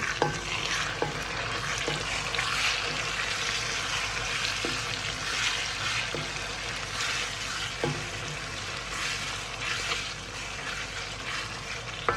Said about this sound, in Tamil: தக்காளியை சின்ன சின்ன வெட்டி வச்சுருக்கேன், அதை போட்டு இதை கொஞ்சம் வதக்கி